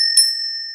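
A notification bell sound effect gives one bright ding that rings on as a clear, steady tone and slowly fades, heard alone.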